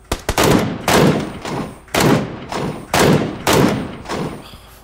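Sniper gunfire in the PUBG video game on Xbox: five or six loud, heavy shots with booming tails, fired in a steady rhythm about a second apart, with no talk over them.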